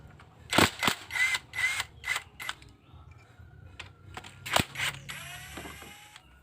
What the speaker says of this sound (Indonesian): kita lepas baut pengikat dari koil 4 biji ini